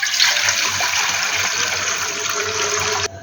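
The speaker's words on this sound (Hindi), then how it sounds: "अब यहाँ पे तकरीबन 1 लीटर हम पानी शामिल करेंगे।" About a litre of water pours into a pot for chicken mandi, a steady, loud splashing gush running continuously for about three seconds before stopping abruptly.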